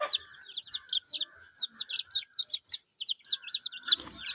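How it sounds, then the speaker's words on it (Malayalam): Native country chicken chicks chirp rapidly and high-pitched, a busy stream of peeps close by. "ഈ കോഴി കുഞ്ഞുങ്ങൾ വന്നിട്ട് ബ്രീഡിങ് പർപ്പസോട് കൂടിയിട്ട് നമ്മൾ വളർത്തുന്ന നാടൻ കോഴി കുഞ്ഞുങ്ങളാണ്"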